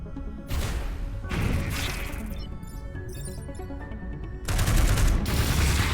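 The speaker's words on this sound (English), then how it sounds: "Oh my goodness, barrage is insane." A barrage attack in the turn-based strategy game Into The Breach erupts as dense bursts of rapid-fire explosive crashes, loud and close, separated by a brief lull filled with electronic tones and sparkling effects before another heavy volley.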